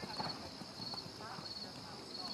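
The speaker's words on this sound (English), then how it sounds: "she's got a beautiful natural canter" Horse cantering during a riding session, with soft, steady hoof clip-clop running through the whole stretch against a noisy outdoor background. A faint voice may also be present.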